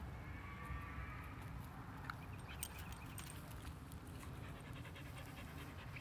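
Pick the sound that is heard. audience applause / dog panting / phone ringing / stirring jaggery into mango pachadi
dog panting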